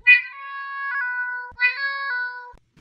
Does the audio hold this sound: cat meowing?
yes